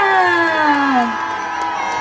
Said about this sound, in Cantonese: 落俾大家熱烈嘅歡呼聲